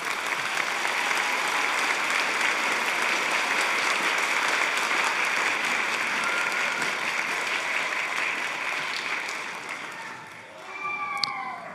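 Sustained applause from a school spring concert audience honoring middle school band students, a dense steady wash of many hands clapping that fades near the end as a voice begins to speak.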